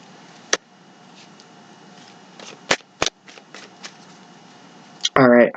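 Tarot cards are shuffled in sharp, scattered riffles and snaps, with a brief burst of talking at the end.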